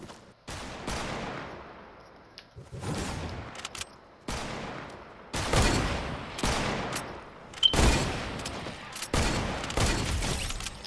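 Gunshots in Fortnite: rapid bursts of sharp shots in several clusters, each volley followed by a brief pause, loud and close with little else around them.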